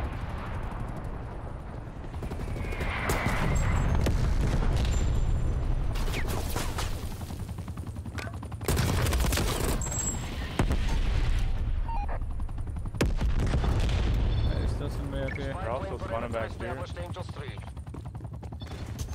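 Artillery strike explosions in the Black Ops Cold War video game, a run of loud booming blasts and rumbling gunfire across the clip, layered with other battlefield effects.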